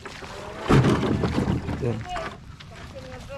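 A small boat motor runs on the water near a fishing area, churning with a rough, wind-buffeted rumble that swells briefly and then eases. Someone talks over it.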